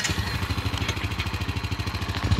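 A vehicle engine chugs as it pulls off in first gear at a muddy bog, a close, rhythmic pulsing rumble with clattering mechanical texture.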